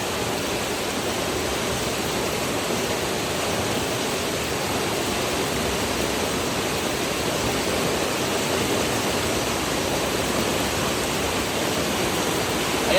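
Loud, steady broadband rush of high floodwater pouring where a bridge has been swept away, a dense continuous roar with no pauses and no voices throughout.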